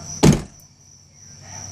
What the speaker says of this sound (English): That is a functioning door latch.